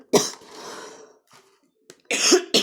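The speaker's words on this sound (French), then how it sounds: "J'ai toujours cette toux qui ne me lâche pas." A sharp cough from a persistent, lingering cough bursts out near the start, followed by a lingering rasp, a short quiet gap, then a second harsh cough near the end.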